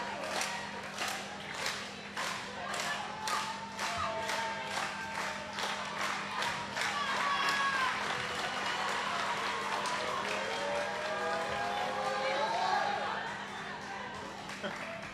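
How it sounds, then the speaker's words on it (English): A crowd at a women's Ireland versus Sweden match claps together in unison, with steady rhythmic claps. The clapping is moderately distant and faint, and in the later part it blends into broader crowd noise. "they get the crowd clapping together"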